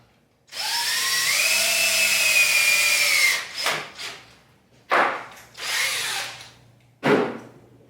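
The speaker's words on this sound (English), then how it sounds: "it's always nice using power tools" A power drill whines steadily for a few seconds while driving a screw into a ski to mount bindings, then stops and restarts in several short bursts.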